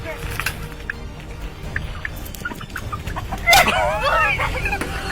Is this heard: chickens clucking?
yes